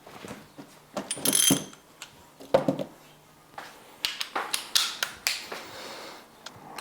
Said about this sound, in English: So grab that torque wrench and just set it to like